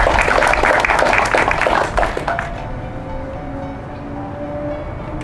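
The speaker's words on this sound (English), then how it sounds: "Please join me in giving a round of applause to the team here at AAPHC." A crowd at a touring event applauds the AAPHC team with dense, loud clapping that fades after about two seconds into a quieter room with a faint hum.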